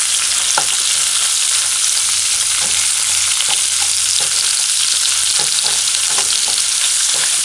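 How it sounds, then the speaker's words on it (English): Onion and scallion sauté in a pan over medium-high heat, giving a steady close sizzle broken by occasional stirring clicks, with no talking. "Add the onion and the scallion. Just allow it to saute."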